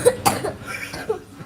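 A child coughs a few times in short, close, raspy bursts with brief pauses between them, with no talking.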